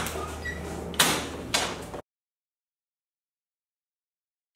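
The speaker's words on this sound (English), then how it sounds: "you place it up to the lock, type in your code, press pound, and the doors will let you in." A key-card proximity lock dorm door at a university housing building, heard as two sharp clunks of the latch and door close by, then silence.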